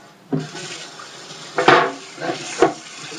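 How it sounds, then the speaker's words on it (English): Water splashes into a pan in the sink, with a few distinct pours and clanks of cookware over a running-tap wash, close and moderately loud. "Just soak some hot water on it."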